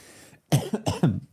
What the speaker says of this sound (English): Just coughing fit.